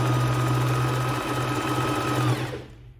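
A Bernette b05 sewing machine runs a zigzag stitch, its motor whirring loudly and steadily for about two and a half seconds before winding down and stopping, with no voices.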